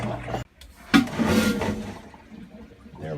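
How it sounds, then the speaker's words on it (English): A VacuFlush vacuum marine toilet on a boat is flushed: a sudden loud whoosh of water and air that rushes for about a second, then trails off into a softer hiss and gurgle. "flush it again"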